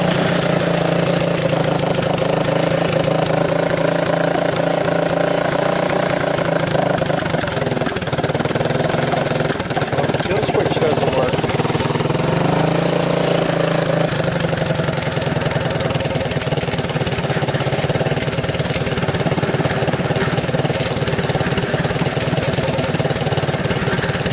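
A Honda ATC185S three-wheeler engine runs steadily and loudly for the whole stretch, a close, rough idle that wavers a little as if fuel is running low, with no talking.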